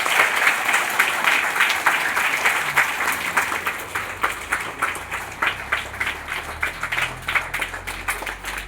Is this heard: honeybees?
no